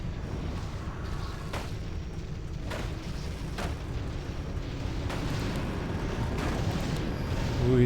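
Tank cannons firing during a siege of a town in a strategy video game, several deep booming shots spaced a few seconds apart over a continuous rumbling battle din, with a voice talking faintly.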